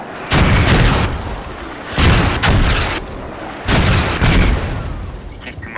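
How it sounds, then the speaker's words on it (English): Mortar artillery fire in a video game: three heavy booming salvos, each a sustained roaring burst of about a second, spaced a couple of seconds apart, loud and close, with no talk over them. "Yeah, those mortars just instantly."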